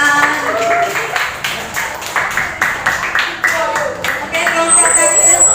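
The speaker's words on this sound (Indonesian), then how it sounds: "Beri tepuk tangan." Classroom audience applauding after a group presentation in a teacher-training session at a university in Cirebon, a steady patter of many hands clapping throughout, with some voices and classroom noise mixed in.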